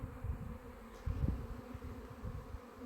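A low, fluctuating buzz of many young honey bees on orientation flights near an apiary's hives, a soft continuous drone swelling and fading.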